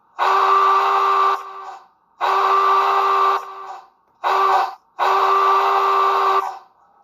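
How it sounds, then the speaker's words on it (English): A SoundTraxx Tsunami 2 sound decoder in an Athearn model of Challenger 3985 blows its steam whistle in four blasts: three long, one short, clear and close with brief gaps. "it even has the whistle specific for 3985"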